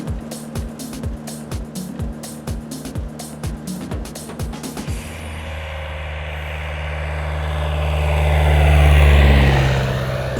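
A light aircraft with a 108 hp Lycoming O-235 engine is heard up close, first a rhythmic chugging as it turns over, then a loud, steady propeller drone that swells as the engine runs up.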